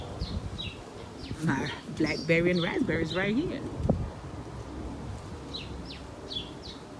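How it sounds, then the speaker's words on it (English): Small birds chirp in a backyard container vegetable garden, with short high calls scattered behind a person talking nearby and a few clearer chirps once the talking stops. "Chirping their little hearts away."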